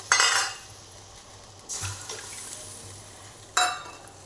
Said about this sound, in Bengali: এরপরে এতে আমি জল দিয়ে দেবো